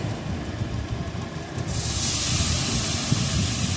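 Water is poured into a hot pan of spices while making a Bengali vegetarian doi potol curry, bursting into a loud, steady steam hiss that swells and holds close by, with no one talking.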